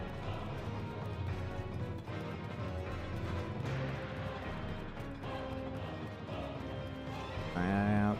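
Horse hooves galloping in the video game The Legend of Zelda: Tears of the Kingdom, a steady rhythmic clip-clop with a voice speaking near the end.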